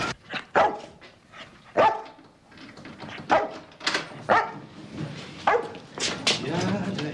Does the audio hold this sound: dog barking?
yes